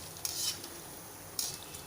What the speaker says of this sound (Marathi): आता हे असे छान हलवत सगळ्या साईडने सोनेरी रंगावर तळून